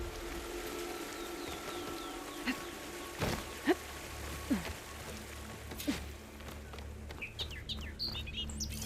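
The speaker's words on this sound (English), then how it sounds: "Rain's letting up." Steady rain falls in the game Horizon Forbidden West, a constant hiss of drops with bird chirps and calls scattered over it, moderately close and without talk.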